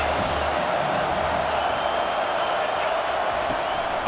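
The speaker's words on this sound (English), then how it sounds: "This crowd bringing the energy and noise early." A stadium crowd roars in a steady wash of noise in EA Sports College Football 25, a dense continuous din with no distinct claps.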